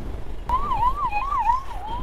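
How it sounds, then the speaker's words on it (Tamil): An ambulance siren wails on the road during a motorbike ride near Murudeshwar, its tone rising and falling steadily and fairly loud over low road and engine rumble. "ஆம்புலன்ஸ் வருது, காப்பாற்று கடவுளே."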